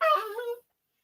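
A dog lets out one brief, high, close whimper that ends abruptly, leaving silence.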